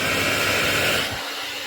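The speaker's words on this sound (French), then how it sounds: "le sèche-cheveux consomme 207 watts en moyenne" A small portable hair dryer running on its first setting makes a steady, close, broadband blowing whoosh, with the low rumble easing slightly toward the end.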